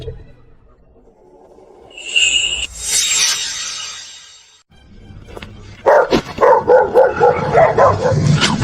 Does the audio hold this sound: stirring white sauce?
no